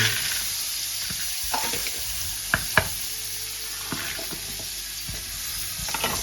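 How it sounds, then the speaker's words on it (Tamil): Cashews and raisins fry in about 50 grams of hot butter in a pan for kesari, a faint steady sizzle broken by a few sharp knocks and scrapes of a spoon against the pan. "பட்டர் கொதித்த கையோடு கஜு பிளம்ஸை போடவும்."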